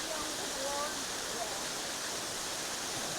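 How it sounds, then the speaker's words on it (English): A Cumberland Trail waterfall fills the air with a steady, broad rushing hiss that stays constant throughout, heard close and loud with no other distinct sounds. "This is the waterfall."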